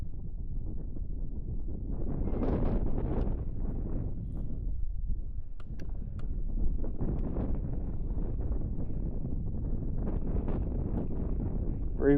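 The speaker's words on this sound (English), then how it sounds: "Braving the wind whether we want to or not right now." Wind buffets the microphone out on a lake while fishing for crappie from a boat, a steady low rumbling roar with gusty swells throughout, no clear talking.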